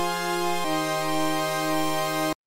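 A sustained synth pad of detuned square waves, one voiced an octave up, with pulse-width modulation, buzzing and bright, its chord shifting once early before cutting off abruptly.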